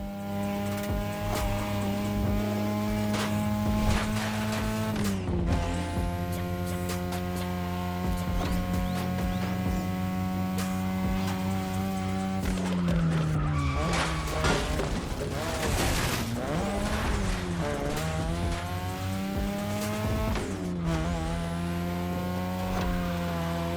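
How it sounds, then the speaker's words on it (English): A 2002 third-generation Mazda RX-7 with a rotary engine racing in The Crew Motorfest video game, giving a loud, steady high-revving buzz that rises and drops with gear shifts over a low hum, continuous throughout. "Tonight your ride is a 3rd Gen 2002 Mazda RX-7. Lightweight, compact, a sick rotary engine"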